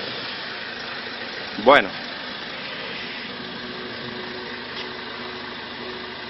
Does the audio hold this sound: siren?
no